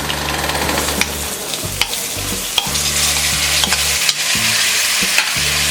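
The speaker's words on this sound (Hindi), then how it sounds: "मिक्स कर देते हैं और इसे हम 2 मिनट तक फ्राई करेंगे।" Cooked chickpeas fry in a pan under loud, repeated stirring, with a spatula scraping and knocking in an uneven rhythm over a constant close sizzle and low hum. No one speaks.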